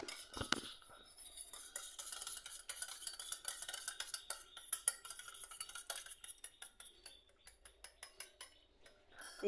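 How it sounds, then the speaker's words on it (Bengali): An egg is whisked in a bowl for chicken fry, with a quick, steady run of light metal-on-bowl taps and scrapes that continues throughout and stays fairly faint. "এটা ভালো করে ফাটিয়ে নেবেন।"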